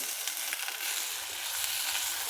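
Potatoes hitting a hot pan of frying green chilies, ginger-chili paste and curry leaves, giving a loud, steady sizzle that fills the whole moment without any voices.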